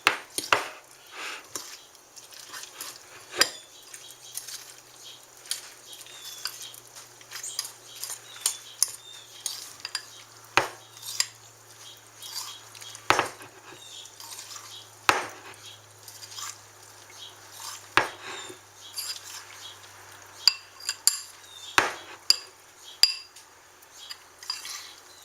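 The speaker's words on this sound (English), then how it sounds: "Mix the corn in." Corn being mixed into fritter batter in a bowl, with irregular soft clinks and scrapes of a utensil against the bowl, fairly quiet and close, with sparse sharp taps spread across the clip.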